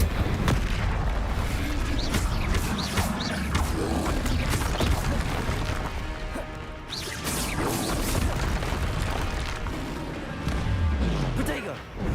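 Spell effects from Hogwarts Legacy crackle and boom in dense, continuous succession, with bursts and crashes layered over game music and frequent voices throughout.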